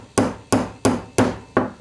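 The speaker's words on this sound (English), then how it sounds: "Take my little hammer and my punch. Just going to kind of tap down 5 times." A small hammer taps a punch five times in a steady rhythm, each strike sharp and close with a short ringing decay, while working a pistol extractor tool.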